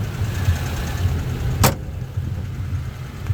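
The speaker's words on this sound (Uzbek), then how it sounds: "Motor holatini ko'rib turibsizlar" A Daewoo Matiz car engine idles at a used-car market with a steady low rumble throughout, broken once by a brief sharp clack midway.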